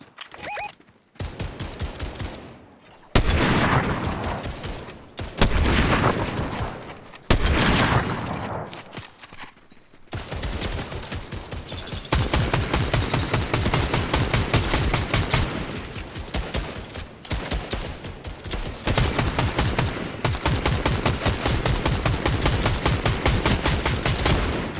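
Rapid video-game gunfire rattles in bursts, with separate shots and short pauses at first, then a long, dense stream of automatic fire. It is loud and close.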